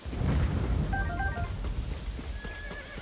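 A horse in Zelda: Tears of the Kingdom whinnies with a shrill, wavering neigh over a steady rumble of hooves and background noise, fairly loud and close.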